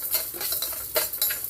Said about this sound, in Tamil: அரிசி, பருப்பு, ஏலக்காய் இது எல்லாத்தையுமே நல்லா ஃப்ரை பண்ணிவிட்டு கோல்டன் ப்ரௌன் வரா